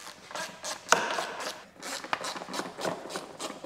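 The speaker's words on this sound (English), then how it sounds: "So I'm going to grab 3/8 socket and 1/4 inch and pop both of these bolts off" Socket wrench loosening bolts on the rear shrouds of an Evinrude ETEC V6 outboard, quick repeated ratchet clicks in bursts with a sharp metallic knock, close and without talk.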